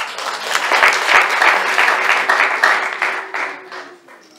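A church congregation breaks into sustained applause, dense clapping from a large crowd that swells and then slowly thins out over a few seconds, with no speech over it.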